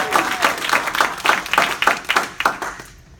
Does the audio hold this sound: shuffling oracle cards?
no